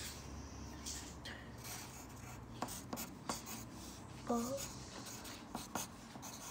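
A pen scratches across paper in short, quiet strokes and taps, close by, with faint talk in the background.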